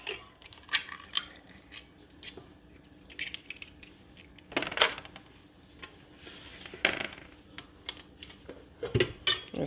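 Eggs for bread pudding are cracked one after another against a hard edge, irregular sharp taps and clicks spread over several seconds, close and moderately quiet with no talking.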